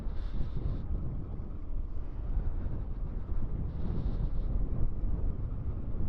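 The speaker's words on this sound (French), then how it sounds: "le vent il se remet à souffler de face" Head-on wind buffets the microphone while riding an electric mountain bike, a steady low roaring rush with gusty swells and no voices.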